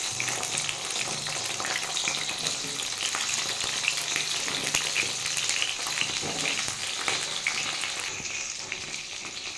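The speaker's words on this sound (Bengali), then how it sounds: "ওই তেলের মধ্যেই আমি একটু বেগুনগুলো ভেজে নেব" Eggplant pieces frying in the same hot oil just used for rohu fish, seasoned with turmeric and salt, giving a loud, continuous close sizzle and crackle with no talking.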